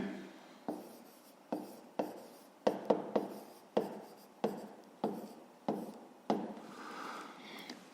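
Pencil or pen writing math on paper for a fifth-grade arithmetic exercise, a series of sharp scratchy strokes coming in quick bursts roughly every second, close and fairly quiet, with no talking.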